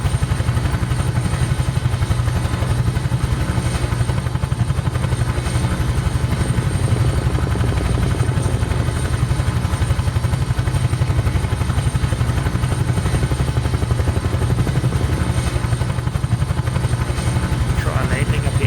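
A Huey helicopter in Microsoft Flight Simulator flies low over canyon country, its rotor and turbine making a loud, steady drone with a constant rhythmic thump that runs unbroken throughout.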